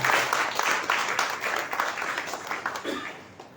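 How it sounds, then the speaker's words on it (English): An audience at a governor's event distributing financial assistance to cancer patients applauds, a sustained wash of many hands clapping that gradually fades, with some voices mixed in. "let us all put together our hands to applaud and appreciate our Honorable Governor"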